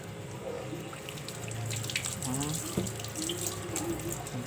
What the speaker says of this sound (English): First, we're going to wash our onions.